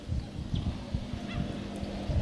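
Honking calls from a group of ducks seen along a trail in Winton, Queensland, Australia, repeated in short bursts against steady outdoor background noise at moderate distance.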